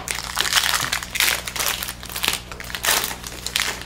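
A Marquee baseball card pack's foil wrapper crinkles and tears close up in quick rustling bursts, with no one speaking.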